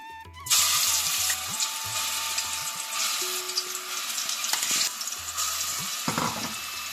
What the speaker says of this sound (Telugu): నూనె వేడెక్కిందండి, ఇప్పుడు మసాలా వేస్తున్నాను